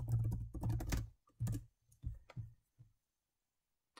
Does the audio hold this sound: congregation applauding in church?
no